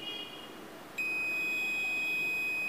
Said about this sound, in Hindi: देख सकते हैं बजर बज रहा है, मतलब ये वायरिंग शॉर्ट नहीं है